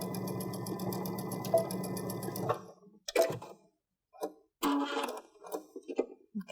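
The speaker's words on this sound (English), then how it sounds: "I'm going to stitch within that area again on the other side to hold that elastic in place." A sewing machine stitches elastic onto a drawstring backpack with a fast, steady mechanical whir for a few seconds, then stops and gives several short bursts of stitching with pauses between, close and moderately loud.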